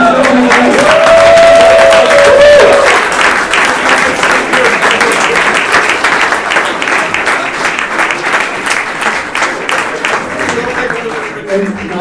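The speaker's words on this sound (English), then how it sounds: "So give us a last time a big applause" Audience applause fills a hall at the close of a sustainable blockchain hackathon's final pitch session, a steady loud wash of clapping with some cheering and a voice over it early on.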